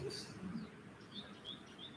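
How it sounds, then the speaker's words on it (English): A bird chirps in short, faint tweets scattered over a steady low background hum, with a few quick high calls repeating at irregular intervals. "And it is singing, like this bird chirping."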